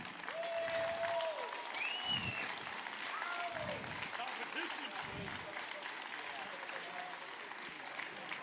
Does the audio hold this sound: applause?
yes